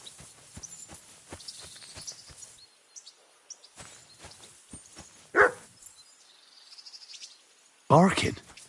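A dog in the game Kingdom Come Deliverance 2 barks twice, sharp and fairly close, against crickets and soft footsteps in a quiet night setting.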